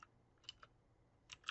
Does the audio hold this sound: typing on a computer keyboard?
yes